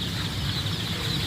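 Chicks cluck and peep softly in a brief, continuous burst of farmyard chatter, close and steady, with no talking.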